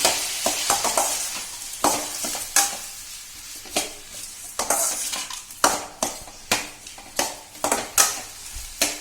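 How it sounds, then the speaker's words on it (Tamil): Chopped tomatoes with salt sizzle in a pan while being sautéed for tomato chutney. A spoon scrapes and stirs in repeated strokes, producing a steady rhythm of close scraping and frying hiss. "உப்பு சேர்த்து இதையும் நல்லா வதக்கிக்கலாம்."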